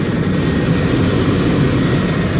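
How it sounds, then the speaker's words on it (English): Chevrolet Astro conversion van engine idling nearby, a loud, steady low rumble with a dense broadband roar and no talk. "I'm going to pause so I can start up the van."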